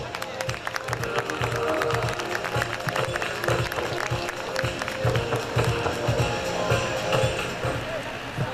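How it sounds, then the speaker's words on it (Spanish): Audience at an international education congress applauding to welcome a speaker, a steady wash of clapping with crowd noise that fills the whole stretch at moderate loudness. "Fuerte los aplausos."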